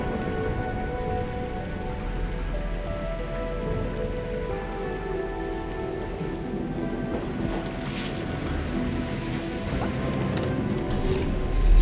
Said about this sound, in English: I can't hear anything except the rain.